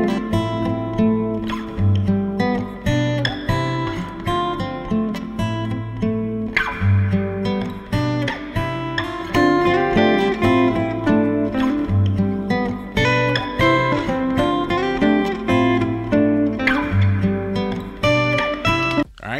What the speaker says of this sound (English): here is the sound of the guitar first